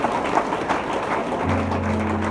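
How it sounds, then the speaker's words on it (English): A church congregation claps its hands together during a pastor's sermon, a continuous wash of many hands clapping at moderate loudness, joined near the end by a low sustained hum. "Clap your hands together for Jesus."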